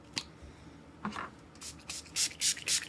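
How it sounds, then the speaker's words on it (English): Trixie Cosmetics setting spray mists onto a face in several short, close, hissing spritzes clustered toward the end, after a few softer rubbing sounds. "I'm going to spray my face with the Trixie Cosmetics setting spray"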